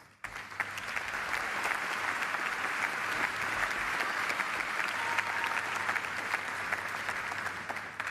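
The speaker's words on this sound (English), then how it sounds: "give yourselves a well-earned round of applause" Graduates and guests at an undergraduate commencement ceremony applauding, a dense, sustained wash of clapping from a large crowd that holds steady throughout.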